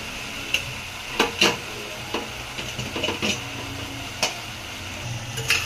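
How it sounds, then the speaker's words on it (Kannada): Cooked dal and tomato from a pressure cooker tipped into a sambar pot, heard as a few soft scraping and clinking spoon strikes against the vessel over a low steady background, close and moderately quiet. "ಇದಕ್ಕೆ ಕುಕ್ಕರಲ್ಲಿ ಕೂಗಿಸಿರೋದು ಬೇಳೆ, ಟೊಮೊಟೊ ಎಲ್ಲ ಹಾಕಿರೋದು ಬೇಯಿಸಿರೋದನ್ನ ಹಾಕೋಣ."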